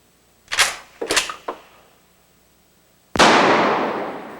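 A 12 gauge pump-action shotgun fires in a sharp report that rings out and fades over about a second, after several close, sharp clicks and clacks.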